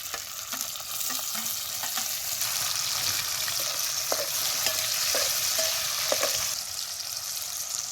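Broken green bean pods frying in oil, a continuous bright sizzling hiss with soft pops and scattered clicks of stirring, fairly quiet and steady throughout.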